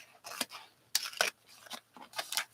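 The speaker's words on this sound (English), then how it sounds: "I'm going to go ahead and quickly cut this out first." Paper being cut with scissors in several quick bursts of snipping, each a short crisp crunch with pauses between, close and fairly clear with no talk.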